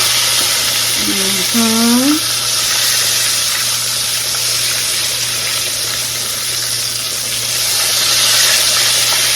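Pork chops sizzle steadily in a frying pan, a continuous close broadband crackle and hiss throughout, with a brief voice sounding near the start.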